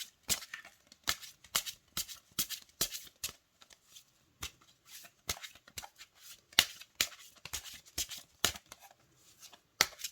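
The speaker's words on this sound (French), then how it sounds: "Alors, on va mélanger les cartes." Oracle cards are shuffled by hand in a rapid series of crisp riffling snaps and slaps, close and fairly quiet, with brief pauses between bursts.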